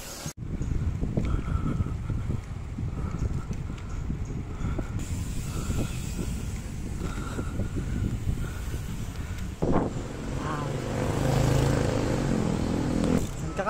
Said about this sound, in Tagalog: isa sa mga pinakamabibilis na motor sa buong mundo, Suzuki Hayabusa.